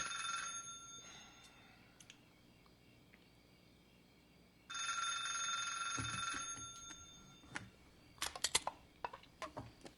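A telephone rings in a short electronic burst lasting about two seconds, fairly clear against a quiet background, followed by scattered clicks and taps with no talking.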